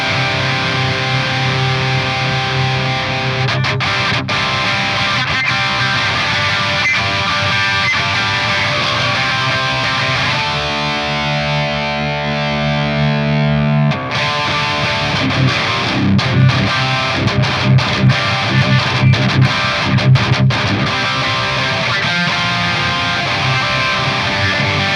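Electric guitar played through an Axe-Fx III modelling a Cameron Atomica amp with input drive at 6, giving a loud, sustained distorted tone with chugging riffs and a brief held chord in the middle, with no talking.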